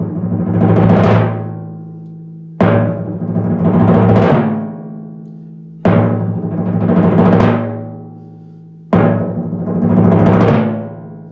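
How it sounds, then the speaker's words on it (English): Timpani roll on the lowest drum, played four times in a row: each starts with a loud stroke, drops quickly to soft, then swells in a crescendo back to forte before releasing. Close and resonant, with no talking. "It starts with a roll on the bottom drum here, and there is a forte piano,"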